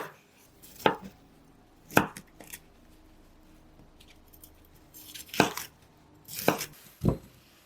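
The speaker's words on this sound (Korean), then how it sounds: "브로콜리 한 송이는 적당히 크게 써세요." A knife chops broccoli florets on a cutting board in sharp, separate thwacks, two early strikes and then a quicker cluster of three near the end, close and clear with quiet gaps between them.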